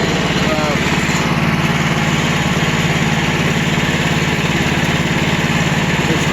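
A Bobcat 310 skid steer loader's engine running warm, a loud, steady, close rattling drone that holds at a constant pace throughout, with a person talking over it.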